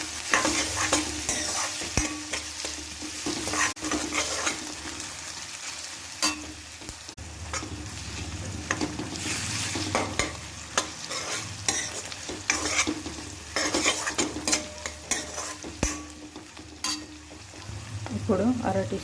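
Green chillies and onions fry in hot oil in a pan, a steady sizzle broken by repeated scraping stirs of a spatula throughout, close and fairly loud, with no talking.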